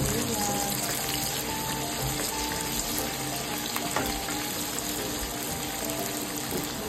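Onions frying in a pan give a steady, dense sizzle throughout, close and even, with a faint clink partway through.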